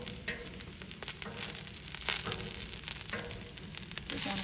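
Vegetarian sausages sizzle on a hot Blackstone griddle, a steady close hiss broken by soft scraping and clattering as they are tossed, with no talking.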